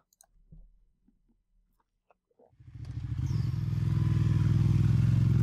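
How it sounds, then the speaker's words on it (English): A motorcycle in a video game starts up after a few quiet clicks, its engine catching and swelling into a loud, steady rumble as the bike rides off with a passenger aboard. "I glance back at Cowdy to make sure she's ready, then start the engine and head off."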